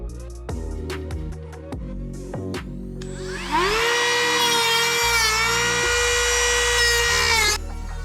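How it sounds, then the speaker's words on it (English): A small cordless Dremel rotary tool fitted with a tiny cutting disc cuts into a boat's clean-out hatch, spinning up after several knocks and handling sounds into a steady high-pitched whine that holds for about four seconds before stopping. "This is a cordless Dremel, and I'm using just a little tiny cutting disc."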